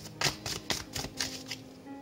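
Tarot cards are shuffled by hand in a quick series of about six crisp riffling bursts, close and fairly quiet, with no talking.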